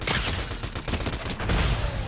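Dense, sustained volleys of gunfire from Fortnite ring out in rapid succession, loud and close, with no talking over them.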